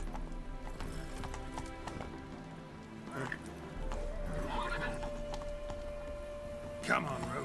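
Hooves of Roach, a horse in The Witcher 3, clop along at a steady gait beneath a voice talking, with a brief louder snort or scuffle near the end.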